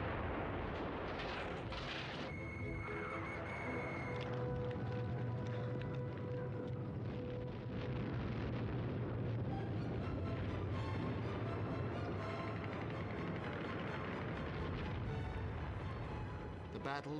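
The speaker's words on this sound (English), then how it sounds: "A great barrage of Katyusha rockets and artillery announces counter-offensives" A heavy Soviet barrage of Katyusha rockets and artillery at the Battle of Kursk, a continuous dense rumble of blasts and rocket roar that keeps going for the whole stretch, with a faint voice speaking underneath.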